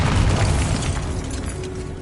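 A Bombarda blasting spell detonates in the Hogwarts Legacy video game, a loud, heavy booming burst with a rumbling low-end tail that fades slowly over two seconds, no talk over it.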